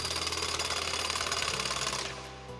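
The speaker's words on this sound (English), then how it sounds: "to the already made machine gun sound, I've added a jackhammer." A machine gun sound effect layered with a jackhammer: rapid mechanical rattling bursts, loud and continuous, then cutting off abruptly into a low fading hum.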